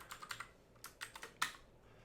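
Someone typing a password on a computer keyboard: a short burst of light, quick clicky keystrokes in uneven clusters, faint and close with no voices.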